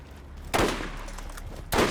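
Two sharp, loud gunshots from a bolt-action sniper rifle in Borderlands, spaced more than a second apart, each with a ringing tail and no talk over them.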